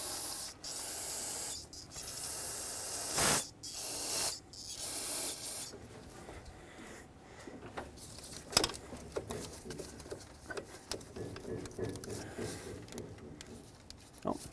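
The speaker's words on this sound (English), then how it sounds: "I'll spray these as well." Aerosol spray hisses in several short, sharp bursts onto intake manifold parts of a 2009-2019 Ford Flex during a gasket replacement, close and loud. Quieter rubbing and tapping of handled parts follow.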